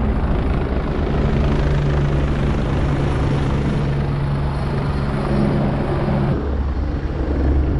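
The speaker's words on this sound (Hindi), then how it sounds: "देखा कैसे हेलीकॉप्टर लैंड हुआ" A helicopter at Kedarnath in the Himalayas, flying in and landing at the helipad, its steady loud rotor thump and engine drone filling the air close by, dropping slightly in pitch near the end.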